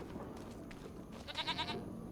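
Goats on a farm in Farming Simulator 25 give a few short, wavering bleats, fairly faint over a soft background hum, with one clearer bleat near the end.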